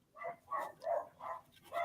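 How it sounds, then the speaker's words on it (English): A miniature schnauzer barks downstairs indoors, five evenly spaced, mid-pitched barks in about two seconds, moderately loud with no talking over them. "My dog sounds like he's killing somebody down there"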